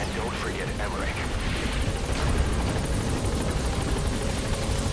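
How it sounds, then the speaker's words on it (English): A military helicopter in Metal Gear Solid V: The Phantom Pain touches down with a loud, steady rotor roar and whine that fills the whole clip, with faint background effects mixed in. "The chopper's touching down."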